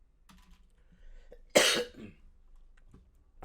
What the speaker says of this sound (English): I don't know why I keep coughing when I'm recording